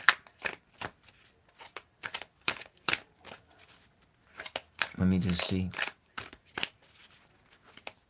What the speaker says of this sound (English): You can stop me from shuffling